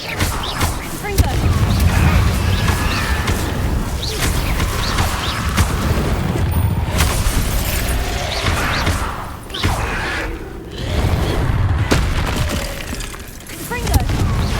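Repeated Confringo fire-spell explosions in the video game Hogwarts Legacy, a string of loud booming, crackling bursts over busy game ambience, with brief voices calling out now and then.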